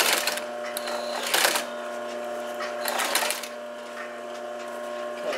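A sewing machine stitching the sides of a straw clutch, running in a continuous mechanical whir with a few louder surges as it stitches and reverses.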